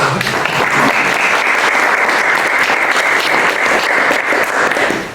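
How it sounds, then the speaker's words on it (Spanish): Steady, loud audience applause for a book's author at a presentation, sustained evenly for several seconds with no talk over it. "Pido un aplauso para el autor porque pues hay que festejar."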